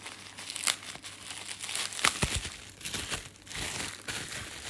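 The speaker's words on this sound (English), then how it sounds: "Sometimes you just can't open them though, and you just have to rip into them." Plastic bubble mailer pouch ripped open by hand, close-up crinkling and tearing in several loud rough bursts, with rustling between pulls.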